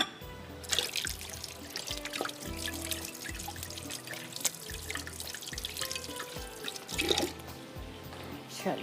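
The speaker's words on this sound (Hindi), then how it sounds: "मैं हैंड वॉश करके आती हूँ जब तक ये फ्राई हो रहे हैं।" Hands are washed under a running kitchen tap while shrimp fry nearby, giving a steady close stream of water with drips and occasional clinks.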